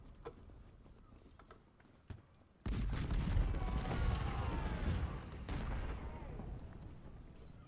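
Sharpshooters fire rifles in a Civil War strategy game battle at Crampton's Gap: a few scattered distant shots, then a sudden dense, sustained crackle of gunfire over a low rumble, loud and continuous to the end.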